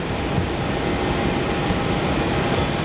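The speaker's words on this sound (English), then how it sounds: "our next takeoff is VA91 heading up to Denpasar, the 737-800" Jet roar of a Virgin Australia Boeing 737-800 on its takeoff run at Melbourne Airport, a steady broadband rumble that holds loud and constant throughout with no voices.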